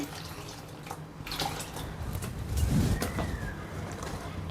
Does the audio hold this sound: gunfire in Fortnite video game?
no